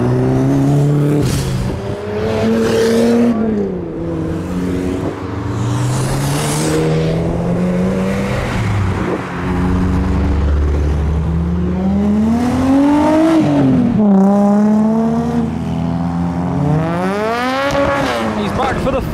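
Tuner cars leaving JapFest 2024 rev hard and accelerate past one after another, loud rising and falling engine notes with brief tire squeal, while people nearby talk throughout.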